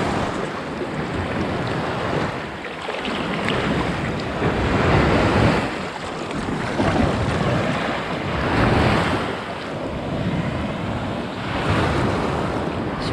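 Rough sea waves break on the sandy, fine-pebbled shore of Jungle Beach in Greece, surging in loud, close swells every few seconds over a constant rush of wind noise, with no voices.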